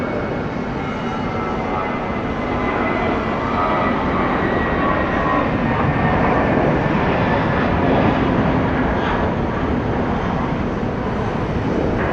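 An airplane lands on runway 34 left, a loud, steady engine roar that fills the scene without letup, with no voices.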